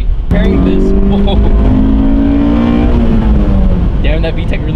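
Toyota GR86 engine pulled hard toward 6,000 rpm, a loud, close cabin drone rising steadily in pitch and then easing off, with people speaking over it.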